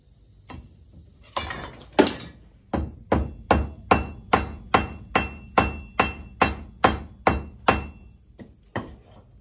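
Hammer blows on two iron pieces being forge welded on an anvil, about fifteen sharp, evenly spaced ringing strikes, close and loud.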